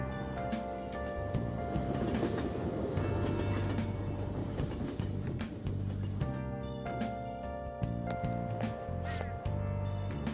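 A train ride in the video game Persona 5 Royal, with a continuous rumbling, clattering rail ambience and rhythmic mechanical tones layered under game music, steady throughout at moderate volume.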